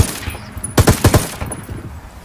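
Gunfire from the video game Ghost Recon Wildlands: a quick burst of four or five sharp shots, loud and close, with scattered quieter game sounds around it and no talk.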